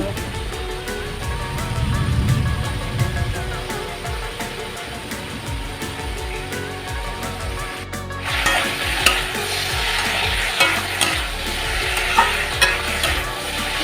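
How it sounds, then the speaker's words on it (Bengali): Shrimp frying in a pan give a steady close sizzle with repeated scraping stirs, and the hiss grows brighter and louder partway through; heavy rain is falling outside. "চিংড়ি মাছটা ভাজা বসছে"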